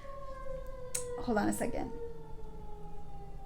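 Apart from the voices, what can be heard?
emergency vehicle sirens passing outside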